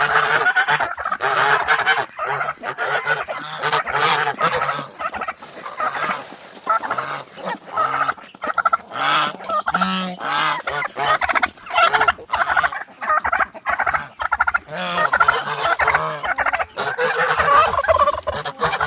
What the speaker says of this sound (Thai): ระวังไก่งวงตัวผู้เก่งมากลูกเก่งมาก